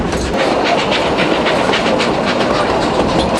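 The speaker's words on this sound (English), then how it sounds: "Here's the Puffing Billy in Melbourne, Australia. The train that we're on." Puffing Billy steam train in Melbourne, Australia, heard from on board: a steady, loud rattle and clickety-clack of carriages rolling along the rails, with no voices.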